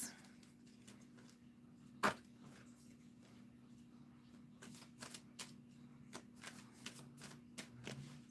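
Quiet riffling and flicking of tarot cards being shuffled, with a sharp tap early on and scattered soft shuffles following over a low hum.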